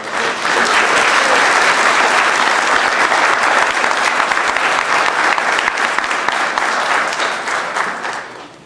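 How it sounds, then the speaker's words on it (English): Sustained applause from an audience at a Navy medical laboratory technician (MLT) graduation ceremony, dense and loud throughout before tapering off at the end. "could you give them another round of applause"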